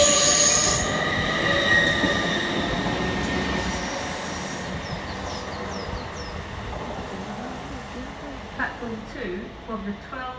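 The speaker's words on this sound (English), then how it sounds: "arriving in the opposite direction is 801-228, working the 1222 LNER Azumas service from London King's Cross through to Edinburgh Waverley" An LNER Azuma class 801 train arrives at Durham station with loud, high wheel squeal, which fades to rumbling and a few scattered squeaks as it slows. Some voices are heard under the sound.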